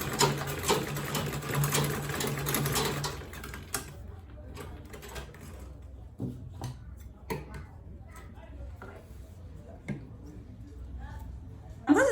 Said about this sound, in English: Sewing the second side now